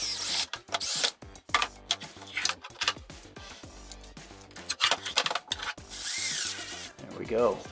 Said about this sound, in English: With that one held in place, we'll go ahead and drill the bottom hole.